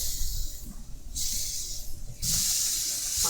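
Steak hisses and sizzles in a frying pan, the sharp spitting hiss swelling in stronger surges over a quieter background, close by with no one speaking.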